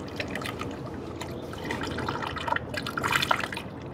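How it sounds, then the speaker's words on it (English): Distilled water poured into a Honda radiator until it overflows, a steady close liquid gurgle with dripping splashes that grow busier and louder toward the end. "We just top her off with distilled water until she overflows."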